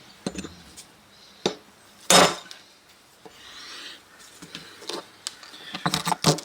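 Several sharp metallic strikes of a hammer on a bolster against a stone paver, splitting it, spaced irregularly, with scraping and rubbing between blows.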